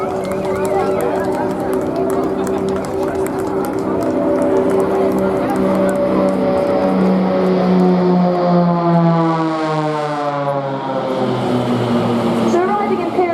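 Blades display team aircraft arrive in pyramid formation at the Torbay Airshow, their engine roar sweeping past with a falling pitch. A loud announcer talks over them and the crowd murmurs.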